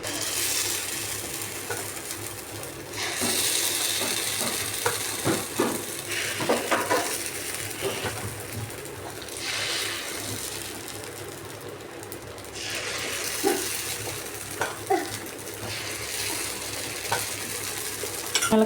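Batter pours into a hot cast kuzhi paniyaram pan and sizzles loudly. The sizzle swells in repeated surges as each well fills, over a constant frying hiss with scattered light scrapes and taps.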